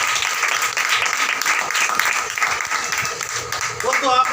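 A congregation at a religious gathering applauds, a steady, crowded roll of clapping hands sustained throughout, with a voice starting briefly at the very end.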